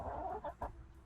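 Chickens in a backyard coop, soft short clucks in a quick uneven series, faint and close.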